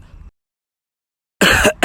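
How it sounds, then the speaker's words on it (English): A single person gives a short, loud, harsh cough burst near the microphone after a brief pause, followed by a second quick cough. "This cough is very bad, though."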